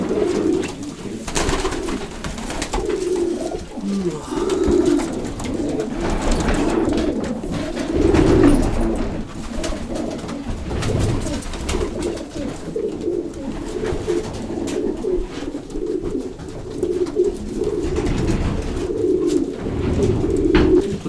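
Pigeons coo continuously up close, low throaty warbling calls overlapping from several birds, with no talking.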